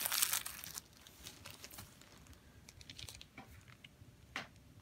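Crinkling cellophane packaging being pulled off an action figure, a dense burst of crackle at the start and then scattered softer rustles and crinkles, close up with no talk.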